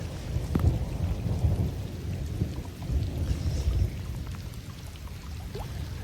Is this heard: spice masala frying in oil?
no